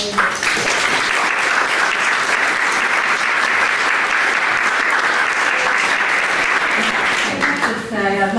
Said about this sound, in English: sharing a big round of applause to everyone for being here